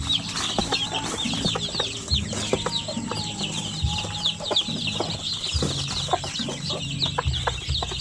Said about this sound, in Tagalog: So ang dami na po natin mga sisiw no.